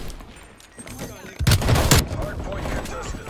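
Gunfire in the PS5 shooter Black Ops Cold War, a loud close burst of rapid shots followed by continuing rattling fire, with a voice talking over the quieter opening.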